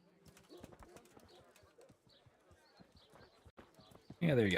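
Horse hooves clip-clopping in the video game Kingdom Come: Deliverance, a soft, uneven run of quiet hoof taps and movement, ending in a sudden louder burst of noise.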